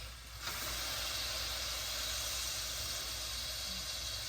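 Garlic hits a hot pan for fried rice with a sharp onset, then a steady, even sizzling hiss that carries on alone at moderate level.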